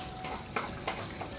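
Water gushes steadily from a timed public tap while someone bathes beneath it, a constant close splashing rush with a couple of brief louder splashes.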